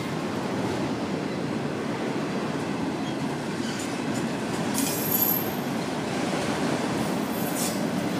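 FEC train 202 rolls past in a continuous, loud rumble of rail cars, with faint high wheel squeals rising briefly over the steady roar and no voices.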